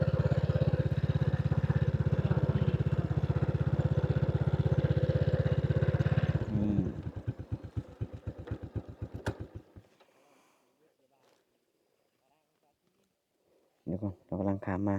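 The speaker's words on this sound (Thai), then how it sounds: "เรือบักกำลังข้ามมาแล้ว" A small river boat's engine chugs loudly and steadily, then slows into separate putters and cuts out, leaving near silence before a brief burst of engine noise returns at the very end.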